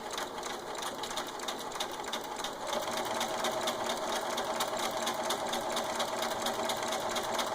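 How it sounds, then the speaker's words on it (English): A sewing machine stitches fabric in a close, steady, rapid mechanical whir that runs unbroken and grows slightly louder partway through, with no talking. "And then you want to sew all the way to the bottom of your fabric."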